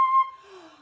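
A quick sharp breath drawn in after blowing during a trumpet-style C minor scale lesson, a short close intake that trails off with a faint whistling tone, alone without talk.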